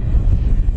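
A HobbyZone Arrows F-15 RC jet with twin 64mm electric ducted fans at full throttle into the wind on a very windy day, giving a brief, loud, steady roar mixed with heavy wind buffeting on the microphone.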